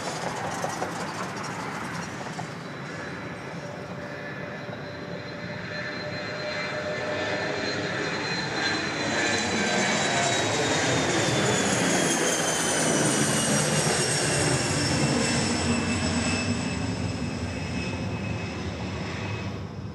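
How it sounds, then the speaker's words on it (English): A jet airplane passing at Dallas Love Field airport, its steady engine roar building and holding loud with a rising whine throughout, no talking. "We get some planes like that."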